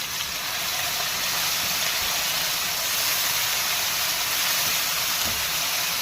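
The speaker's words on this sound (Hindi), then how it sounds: "चिकन डालकर मुझे इसको फ्राई करना है।" Boneless chicken pieces frying in a hot pan, a steady, loud, bright hiss of sizzling oil that holds even throughout with no break and no talking.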